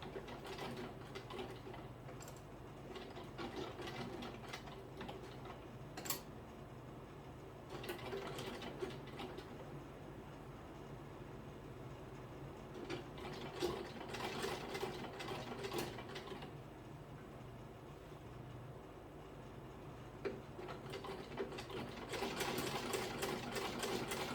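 A sewing machine stitches a dart on a bodice, a quiet, close mechanical whir with rapid ticking bursts that start and stop several times.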